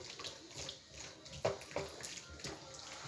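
Hot water runs and splashes while food is washed under it by hand, a soft, uneven sloshing with a few louder splashes, faint and close, and a voice speaking quietly underneath.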